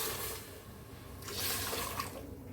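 Water is poured steadily into a pot while venthaya kali is being cooked, a close, continuous splashing trickle that swells midway, with no voices.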